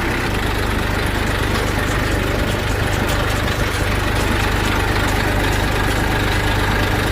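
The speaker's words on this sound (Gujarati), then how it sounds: "જો ટ્રેક્ટર ઊભું કરી દીધું છે" A parked tractor's engine idles at a farm, a loud, steady low rumble with a dense, unbroken throb that never changes pace.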